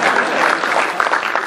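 Audience applause at a Hindi kavi sammelan poetry recital, a dense steady clapping from a crowd, loud and close, with no voice over it.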